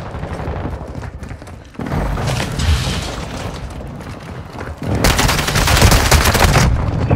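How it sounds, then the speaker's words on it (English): A precision airstrike hitting in Warzone 2.0 on Ashika Island, with loud booming explosions and rapid crackling impacts that roll on continuously, swelling again in a second heavy burst toward the end. "Enemy precision airstrike."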